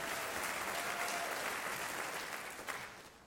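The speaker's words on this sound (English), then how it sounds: "Give yourselves an applause for being here today." A church congregation applauds during a Sunday morning celebration service, a steady dense wash of clapping from a large room that fades gradually toward the end.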